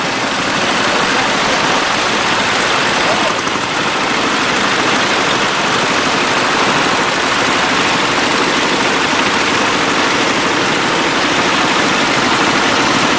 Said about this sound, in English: There is 2 tractors here that he's driving.